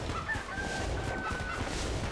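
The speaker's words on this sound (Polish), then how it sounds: "gdy kurczaki otrzymują obrażenia, wtedy wysyłają więcej tych kurczaków na przeciwnika" Chickens clucking in the video game Enter the Gungeon, a faint, brief burst of squawky clucks over a background of game noise, with no talk.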